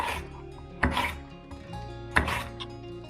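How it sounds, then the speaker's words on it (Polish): A knife slices a bell pepper into thin slices on a cutting board, two crisp chopping strokes with soft scraping between them, close and fairly quiet. "Paprykę kroimy na trzy części, a następnie w takie dość cienkie plasterki."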